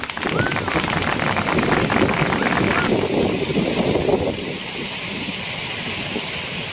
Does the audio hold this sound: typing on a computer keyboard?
no